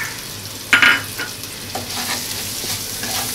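Ground spices sizzle and fry in a pan with a sharp stir near the start, followed by softer scraping stirs over a steady low crackle.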